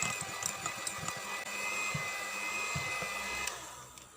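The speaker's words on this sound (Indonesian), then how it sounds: "Lalu ini kita mix dengan kecepatan yang rendah ya teman-teman," An electric hand mixer hums steadily at low speed while blending pandan sponge cake batter, a faint continuous whir with light irregular knocks from the beaters against the bowl.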